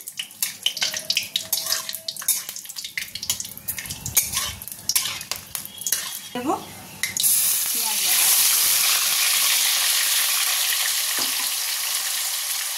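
Whole garam masala, a bay leaf and whole dried chillies fry in hot oil with scraping stir strokes at first, then settle into a loud, steady close sizzle for the rest.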